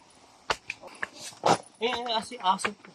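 A dog on a mountain trail on Hagdanan Ridge gives short whimpers and yips, close and fairly loud, mixed with brief voices nearby.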